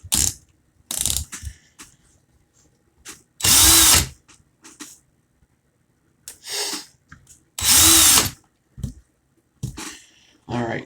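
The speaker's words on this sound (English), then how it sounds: "I'm going to put it into my drill." A power drill spins round wire twisted on a swivel to space coils, whirring in two short loud bursts with ratcheting clicks between stretches of nearby talk.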